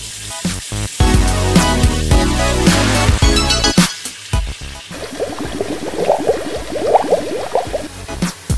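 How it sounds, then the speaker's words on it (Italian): Hot water pours and gurgles steadily into a basin, with bubbly splashing; background music plays over the first half. "Riempiamo la vaschetta con acqua calda e 2 o 3 gocce di detersivo per i piatti."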